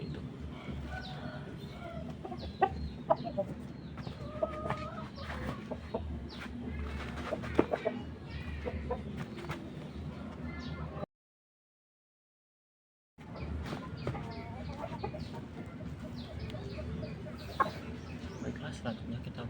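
Chickens cluck during a poultry vaccine injection into the thigh. Steady, close clucking and rustling continue for the whole stretch, broken by a short silent gap in the middle.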